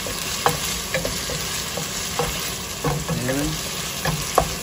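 Onions sauté in a hot pan for palabok sauce, a steady close sizzle broken by repeated scraping stirs of a utensil, with one brief spoken word.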